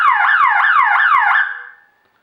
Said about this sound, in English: you'll hear the siren go and you'll see the strobe light flash.